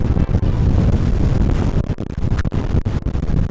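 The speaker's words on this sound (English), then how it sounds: "That's how windy that is." Strong storm wind roars steadily into the microphone outdoors by a church, a loud continuous buffeting rumble with brief gusty dips throughout.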